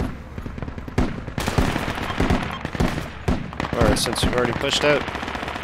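Rapid bursts of gunfire from the military shooter game Project Reality crack out repeatedly, sharp and close, while players talk over the shooting throughout.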